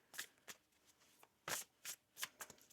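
A deck of oracle cards is shuffled by hand close up in a quiet room, giving a series of quick, crisp riffling bursts at an uneven rhythm, about eight in under three seconds.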